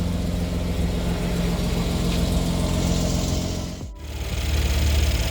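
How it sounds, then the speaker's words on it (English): A Mercedes-Benz W213 E43 idles steadily after an air suspension line fix, a loud, close, continuous low rumble with a brief dip in level partway through before it settles back to a steady drone. "we'll just leave the engine running a little bit"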